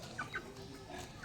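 A live chicken clucks a few short, close notes in quick succession over a low background murmur.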